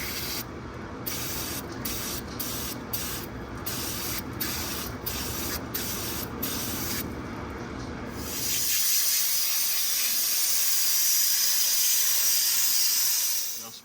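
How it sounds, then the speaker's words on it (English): Dielectric grease sprayed from an aerosol can into connector holes while diagnosing a rough idle on a 7.3 Powerstroke: short rhythmic hissing bursts, then one long, louder continuous spray that cuts off at the end. "we're just gonna take some dielectric grease and spray it out"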